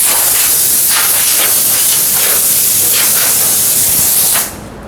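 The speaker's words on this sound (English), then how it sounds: "Last thing we want to do right before we spray it is blow it off again." Compressed air blasts steadily from a nozzle to clear dust off a wooden face frame before it is sprayed, a loud, continuous hiss that stops abruptly near the end.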